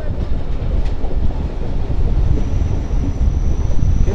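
The Dhalarchar Express rolls through a station without stopping, a loud, dense rumble of wheels and carriages with wind buffeting, heard close and continuous.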